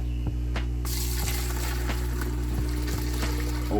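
Worm casting compost tea pours from a heavy container into a canister, a steady continuous liquid rush with a few knocks against the vessel, close and alone.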